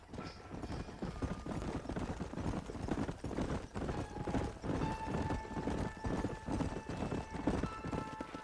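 Horses clip-clop at a steady trot in the Red Dead Redemption video game, a continuous rhythmic patter of hooves close by, moving along without pause.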